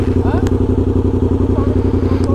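Motorcycle engine running steadily with a close, loud low rumble and rhythmic pulsing throughout, heard while riding on a road trip; someone speaks over it.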